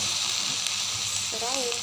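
Tempe frying in a pan gives a loud, steady sizzle throughout, with a short voice entering near the end.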